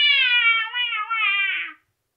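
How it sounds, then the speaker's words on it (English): A pet cat gives a single long, drawn-out meow, clear and close, rising and wavering slightly before trailing off into silence. "Oh, well, that is my cat."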